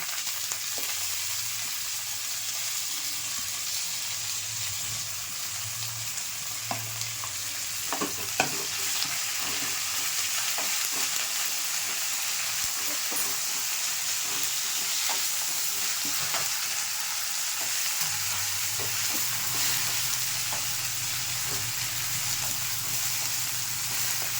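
Curry leaves and herbs sautéing in a pan for a Tamil herbal kuzhambu, giving a steady sizzle and frying crackle throughout with occasional stirring scrapes, close and continuous, no talk.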